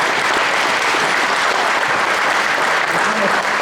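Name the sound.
audience applause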